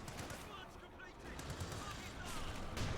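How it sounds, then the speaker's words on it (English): Cromwell tank cannon fire in the video game Company of Heroes 2, dense continuous battle noise with rumbling booms and crackling gunfire throughout, swelling slightly toward the end. "More firing here from the Cromwell tank."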